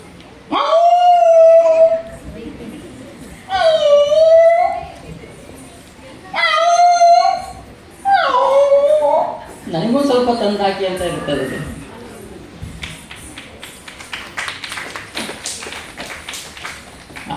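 A mimicry artist voices a dog, giving four drawn-out whimpering howls in a row, then a wavering yelping cry and fading noisy sounds, loud and close.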